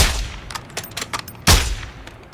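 Gunfire in the DMZ video game, a rapid cluster of loud close shots with one heavy blast in the middle, then fading echoes, and no talk.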